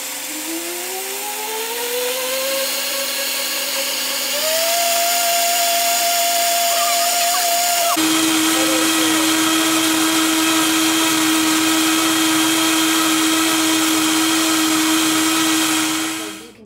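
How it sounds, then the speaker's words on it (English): A Vitamix blender runs loud and continuous on raw vegan cheesecake filling, its motor pitch rising as it speeds up from low, then settling into a steady high whine that cuts off at the end. "Vitamix did a real nice job of blending that."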